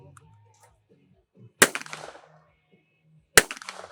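Two loud shotgun blasts crack out about two seconds apart at a clay shooting team shoot-off, and each one rings out briefly into the open air. Between the shots there is faint background noise and a little distant talk.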